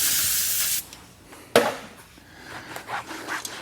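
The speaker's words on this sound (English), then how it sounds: "Just spray it directly on the towel." A hissing burst of tire dressing sprayed onto a towel is followed by a sharp tap, then soft rubbing and handling noises close by, detailing a Porsche 992 GT3 Touring.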